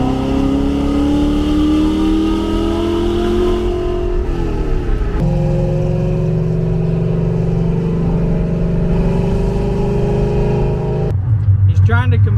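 Widebody 1965 Ford Mustang with a Coyote engine swap, pulling hard with a loud, steady engine roar whose pitch climbs through gears, dipping at shifts before building again, with voices talking over it.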